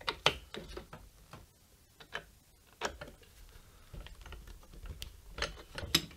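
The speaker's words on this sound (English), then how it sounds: "So All we have to do is unscrew these screws right here." Screws being unscrewed from a block on a motorized guitar pickup winder, a sparse series of close, faint metallic clicks and ratcheting ticks from a screwdriver at irregular intervals in a quiet room.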